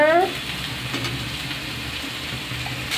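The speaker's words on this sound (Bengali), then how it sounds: "এখন আমি নাড়াচাড়া করে একটু ভেজে নেব।" Eggplant mash with green chillies and boiled lentils frying and being stirred in a pan, a steady soft sizzle with broadband crackle throughout, a brief tonal clink at the very start.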